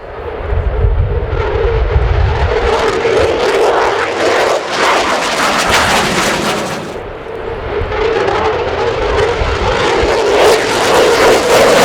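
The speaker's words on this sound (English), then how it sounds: "a trio of F-15E Strike Eagles from the US Air Force once the Flypast runs in" Military jets, including F-15E Strike Eagles and an F-16, pass in a NATO anniversary flypast at RIAT airshow with a loud, sustained roaring engine rumble that swells, dips briefly midway and builds again, crackling throughout.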